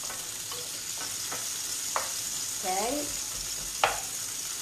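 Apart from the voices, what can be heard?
sautéing in a pan for mussel pistachio pasta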